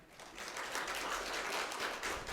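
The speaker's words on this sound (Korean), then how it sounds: "큰 박수로 맞이해 주시기 바랍니다" Audience at a 2020 hospital pharmacists' conference gives warm applause welcoming the association president's opening address, a soft, steady patter of clapping heard from a distance.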